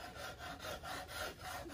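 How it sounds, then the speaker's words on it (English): A very sharp razor file rasps lightly over the wood of a 1920 parlor guitar, five or six even back-and-forth strokes, close and soft, with no talking. "it's a razor file is what they call it, and it's extremely sharp, and it's basically working like sandpaper with a light touch."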